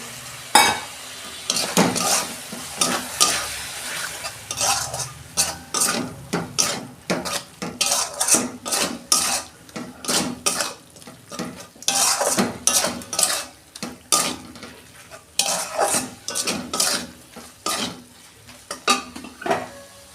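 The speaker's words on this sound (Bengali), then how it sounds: "আমি অল্প পরিমাণ জল দিচ্ছি, মশলাটা কষাবো" Curry masala for a chicken curry cooks in a pan with a little water, a metal spoon scraping and clanking against the pan in a busy, irregular rhythm over a soft sizzle, with nobody speaking.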